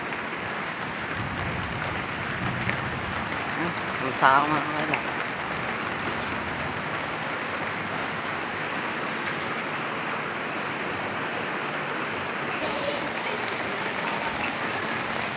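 Steady rain pours down outdoors in a dense, even hiss that lasts throughout, with a brief voice speaking and calling out faintly near the start.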